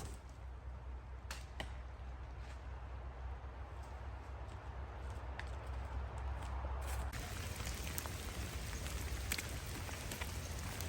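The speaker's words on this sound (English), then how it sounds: "Super rainy, super dreary, super shitty." Rain falls on a disc golf course in dreary weather, a soft, steady patter spread evenly throughout, with a few sharper drop ticks scattered early on and a low background rumble.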